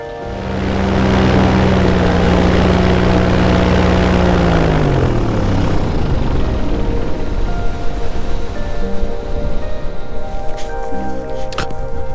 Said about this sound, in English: Very nice landing from Lee.